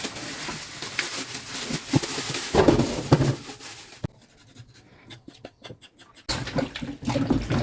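Ogbono seeds are washed by hand in water, making a close, continuous scratchy swishing and rubbing. The scrubbing quiets briefly midway, then resumes at full strength.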